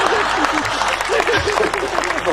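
An audience at a Hindi kavi sammelan, a poetry recital, claps in a steady burst of applause, while a voice speaks over the clapping.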